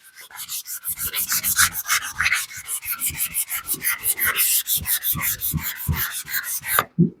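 Hand sanding with 400-grit wet/dry sandpaper before basecoat: close, steady rhythmic scrubbing strokes, loud and repeated back and forth, with no talk.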